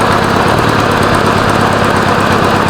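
A 1986 Honda Goldwing GL1200 SE-i motorcycle engine with a small exhaust leak idles low and steady, loud and close, with an even rumbling throb and no talking.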